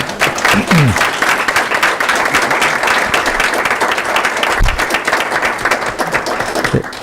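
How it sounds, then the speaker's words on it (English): Loud, dense applause at a school district board meeting, many people clapping steadily for several seconds in an indoor hall. "So, everybody, applause."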